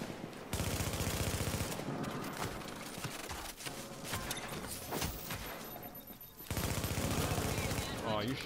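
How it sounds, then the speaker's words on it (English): A Striker fires in a video game, sending loud, rapid bursts of automatic gunfire close by that pause briefly and then resume hard, with faint voices underneath. "Oh, you shoot me in the back with Striker?"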